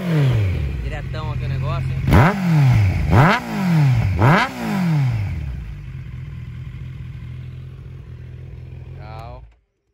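A Kawasaki Z900 four-cylinder motorcycle idles close by, then its engine is revved hard three times in quick succession, each rev climbing sharply and falling back before settling to a steady idle that is cut off abruptly.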